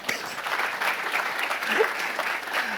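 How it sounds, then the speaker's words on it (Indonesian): A church congregation applauds during a sermon, a full, steady wash of clapping with faint voices mixed underneath. "Tepuk tangan buat Tuhan."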